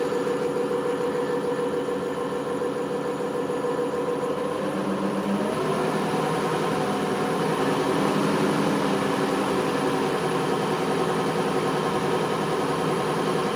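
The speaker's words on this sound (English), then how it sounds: "Sounds like a diesel engine." A nylon 6 gear drive runs in on a drone power rig with a steady, droning, engine-like hum that holds at a constant level and shifts slightly in tone midway, with no talk.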